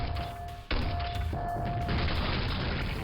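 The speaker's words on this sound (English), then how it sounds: "I just kind of remembered that I have a grenade launcher" A grenade launcher fires in Quake with a loud deep boom, then a sustained rumbling blast that fills the rest of the moment.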